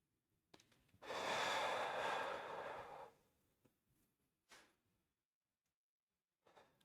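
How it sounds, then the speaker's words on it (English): A person takes a long, heavy exhale after endurance gym exercise, loud and near for about two seconds, followed by a few quieter, shorter breaths with pauses between them. "So I'm trying to slow down my breathing a little bit more."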